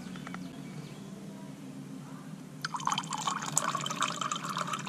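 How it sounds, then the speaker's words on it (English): Acid is poured into water to mix a rust-cleaning solution for pavers and pool coping: after a quiet stretch, a steady splashing, gurgling pour starts and continues close by, fairly loud. "you always pour acid in the water and never add water into acid."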